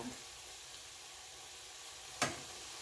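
Country-style okra frying in a hot pan gives a steady sizzle that stays faint throughout, with a single sharp scrape as a spatula flips it near the end, and no talking.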